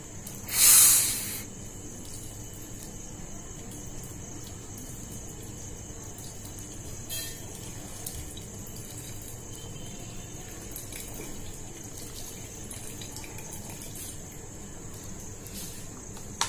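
Water sprayed like rain onto UPDT-mixed soil, a short loud hissing burst of spray near the start, followed by a long quiet steady background hiss.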